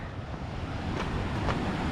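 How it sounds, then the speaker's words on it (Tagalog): Sea waves surge against a rocky shore under steady wind, a continuous broadband wash with a couple of louder breaking swells, close and fairly loud. "Kaso malas yung alon ngayon."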